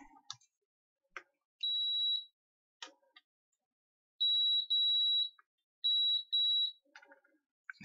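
A multimeter set to continuity gives four steady electronic beeps, one short and three longer with brief gaps in two of them, separated by light clicks and handling taps, all close and alone.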